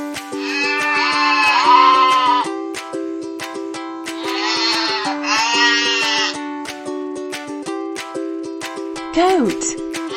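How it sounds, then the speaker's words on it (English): A goat bleats loudly and close by in long quavering calls, two main bursts with a shorter cry near the end, set over steady background music. "Goat."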